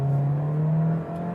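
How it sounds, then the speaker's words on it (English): Compact SUV engine accelerating from a standstill to 40 mph, a steady droning hum from inside the cabin that holds loud, then eases off briefly near the end. "that was like a 0 to 40 miles an hour acceleration"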